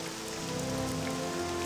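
Rain falls steadily outdoors ahead of an approaching hurricane, a dense, even patter that holds at a constant moderate level throughout, with no voices.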